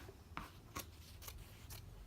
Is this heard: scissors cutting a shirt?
yes